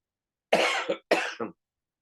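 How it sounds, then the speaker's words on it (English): Two quick, close coughs in succession, each a sharp burst followed by a short trailing hack, surrounded by silence. "Sorry for that little cough going on there."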